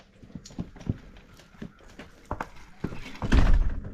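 Irregular hollow hoof clops on hard ground, moderately close, with scattered thuds and a louder shuffle near the end; no talking.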